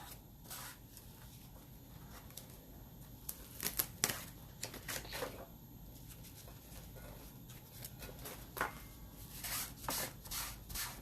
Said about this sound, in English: I'm going to use a piece of paper towel just to dry this silk screen area out.